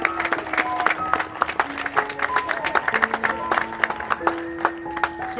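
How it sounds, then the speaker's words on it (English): Clapping breaks out at a memorial garden rededication for a school leadership class, uneven hand claps mixed with cheering voices and sustained tonal lines. "So we want to clap it up for the leadership class."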